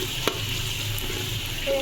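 Onions frying in a pot on a stove make a low, continuous sizzle with a single light knock early on.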